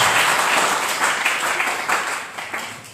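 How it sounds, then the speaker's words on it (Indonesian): A church congregation in Indonesia claps together in a dense, continuous burst of applause during a sermon, gradually thinning toward the end. "Beri tepuk tangan yang terbaik buat Tuhan Yesus Kristus"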